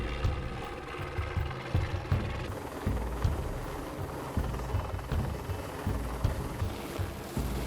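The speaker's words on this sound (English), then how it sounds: "a method for transporting equipment by helicopter called sling loading" A helicopter's steady rotor thumping and engine rumble, close and fairly loud, with gusty wind noise over the microphone, on a glacier ice-core drilling expedition at Puncak Jaya, Indonesia.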